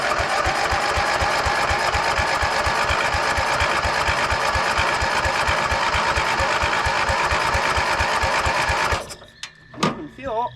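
The engine of a John Deere 111 lawn tractor runs with a fast, steady, loud chugging rhythm, then is shut off abruptly near the end, leaving brief clatter and a voice.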